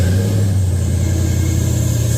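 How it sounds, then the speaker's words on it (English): A rebuilt 2006 GMC 1500 Z71 with a supercharged LSA engine runs at a steady, loud, close idle, a new drive belt adding a thin continuous squeal above the throbbing rumble. "Belt squealing, it's just getting new, but yeah, we're running."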